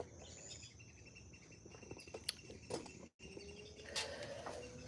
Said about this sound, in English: You're going to hear birds. You're going to hear all kind of creatures.